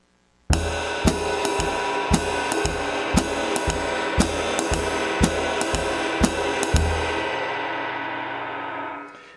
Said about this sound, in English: play jazz time on the ride cymbal and the hi-hat while keeping quarter notes with the bass drum